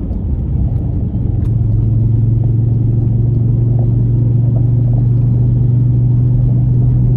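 A VW Golf Mk4 engine with a damaged driveshaft drones steadily at 3,000 RPM in third gear, loud and close, a continuous rumbling hum with no talking.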